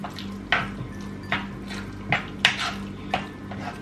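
Guacamole being mixed in a bowl, heard as about five rhythmic, close scraping clinks against the bowl over a soft background.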